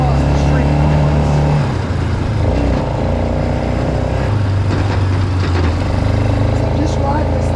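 A repaired used four-wheeler ATV engine idles nearby with a steady low, throbbing rumble that briefly dips and rises, while people talk over it.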